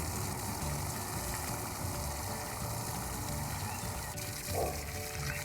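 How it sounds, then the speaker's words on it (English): Garden being watered quickly, a steady broad rush of flowing water close by with a constant low engine-like drone underneath, continuous and unbroken with no talking. "I'm really watering my garden fast."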